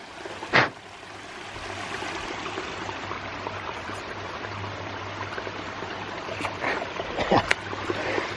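Water flows steadily through a siphoned garden hose fed from a waterfall for micro hydro, a constant rushing wash outdoors with a couple of sharp knocks.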